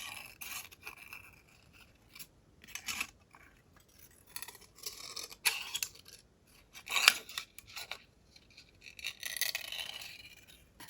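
Scissors cut through a thin aluminium drink can up close, making a series of short, crisp snipping and scraping crunches at an uneven rhythm. The sound is fairly quiet, with no talk.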